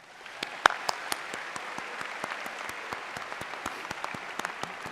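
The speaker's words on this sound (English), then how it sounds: "Please give them a round of applause" A convocation audience at UC Irvine applauds university officials, a steady wash of clapping with scattered sharp individual claps standing out, moderately distant and continuous throughout.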